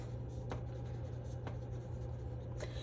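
Crayon rubbing across paper while small rocks are drawn in a sandy scene, faint scratchy strokes over a steady low background hum.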